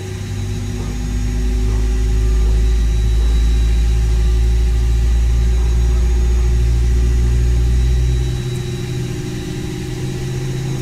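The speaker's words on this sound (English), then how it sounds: "Let's start engine number one. Starting engine one." An airliner's engine number one spooling up in the X-Plane flight simulator game, a steady loud low drone with a constant whine that shifts in tone near the end, with no talking.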